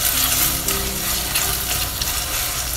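Onions and herbs sauté in a frying pan with a steady, close, crackling sizzle and no voices.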